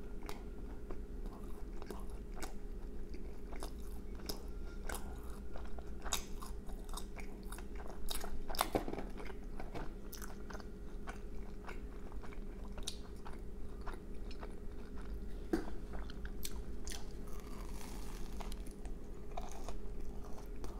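Crunchy bites and chewing of a crispy reheated McDonald's Quarter Pounder with cheese, repeated close-up bites over a steady low background hum, with no talking.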